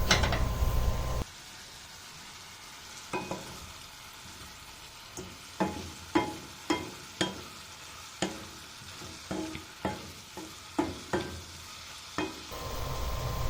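Laing with kangkong leaves simmers in a pot, giving a soft bubbling hiss broken by a dozen sharp, evenly spaced clinks of a spoon stirring against the pot, with no voices.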